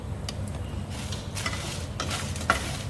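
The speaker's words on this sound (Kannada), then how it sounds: "ಡ್ರೈ ರೋಸ್ಟ್ ಮಾಡ್ಕೊಬೇಕು" Basale (Malabar spinach) mixture dry roasted and fried in a pan for Mangalore-style pundi, a low steady sizzle with soft stirring scrapes and one sharp utensil clink near the end, no voices.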